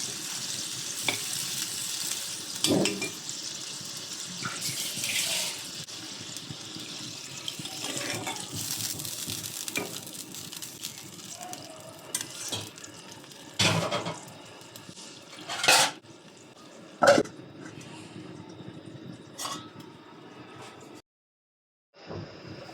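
Pangas fish frying for bhuna in a home kitchen pan, with a continuous oily sizzle under occasional close scraping stirs and a few sharp clatters; the hiss cuts out briefly near the end.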